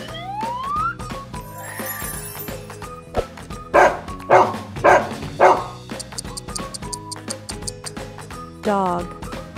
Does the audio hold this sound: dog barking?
yes